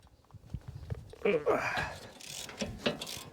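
An electric ratchet works on the wheel bearing bolts of an Audi Q5 during a front bearing replacement, giving short mechanical whirring bursts with clicks, close by, amid workshop handling noise and some talking.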